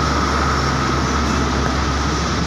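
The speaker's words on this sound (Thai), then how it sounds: "ไปแล้วนะครับ107กรุงเทพเด่นชัย" Rapid train 107 from Bangkok to Den Chai departs a station at Chum Saeng, a loud, steady low rumble and drone of rolling carriages that holds evenly throughout without talk.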